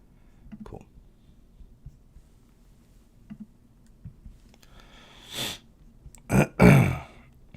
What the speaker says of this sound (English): Sorry, I coughed right in your face.